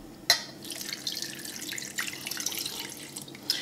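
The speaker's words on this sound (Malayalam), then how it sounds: "ഇനി നമുക്ക് ഇതിലേക്ക് ഒരു ഗ്ലാസ് വെള്ളം ആഡ് ചെയ്യാം." A glass of water poured into a mixer blender jar holding avocado, a steady splashing, trickling pour with a sharp clink at the start and another near the end, close and moderately loud, with no talking.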